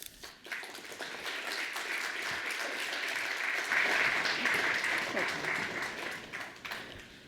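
An audience applauds to welcome a speaker at a talk, a steady wash of clapping that swells and holds for several seconds before easing off.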